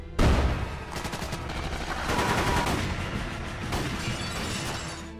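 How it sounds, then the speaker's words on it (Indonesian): A film gunfight between police and a masked family: loud, dense bursts of rapid gunfire with sharp cracks and rattling volleys, continuing without pause over five seconds and no speech. "Aksi baku tembak antara kedua belah pihak pun tak terhindarkan."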